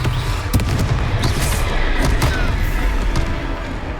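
A Confringo fire-spell blast in the Hogwarts Legacy video game, heard as a dense, booming burst of impacts and crackling over a loud, rumbling battle, with no talking.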